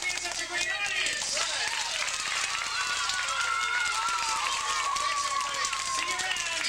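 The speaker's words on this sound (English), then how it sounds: "how about a big round of applause for you guys for being such a great audience?" An audience applauds steadily and close, with clapping blended into loud overlapping cheers and voices throughout.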